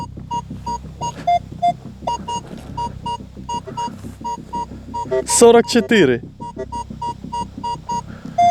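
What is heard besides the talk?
metal detector signal tone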